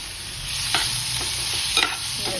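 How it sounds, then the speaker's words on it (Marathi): Prawns being tossed in a hot pan give off a loud, steady sizzle, with a few short scraping stirs from a spoon, close up and without talk. "आता ह्याच्यामध्ये आपल्याला ही सगळी कोलमी परतून घ्यायची."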